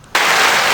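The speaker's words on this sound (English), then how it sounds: "can we get a round of applause for that?" Sudden burst of clapping and cheering from a small studio audience at a podcast, cutting in sharply from near silence and staying loud and dense to the end.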